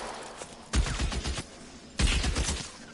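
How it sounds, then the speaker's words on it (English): Two rapid bursts of video game gunfire, each a dense crackling volley of close shots lasting under a second, separated by a short lull of background game noise. "Oh Jesus, I almost shot my friend again."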